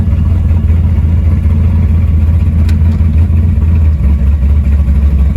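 Chevrolet S-10 truck engine idling steadily in gear, a constant low rumble with no change in pitch and no talk.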